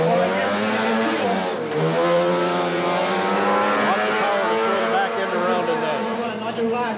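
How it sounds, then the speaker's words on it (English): A home-built GRC Formula 4 race car powered by a 521cc Bombardier Rotax snowmobile engine drives an autoslalom course, its high, buzzing engine note rising and falling through gear and throttle changes, loud and continuous while a commentator talks. "This is Jeff Gallagher from London driving his GRC Formula 4. It's powered by a 521cc Bombardier Rotax snowmobile engine."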